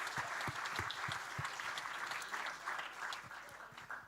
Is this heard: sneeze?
no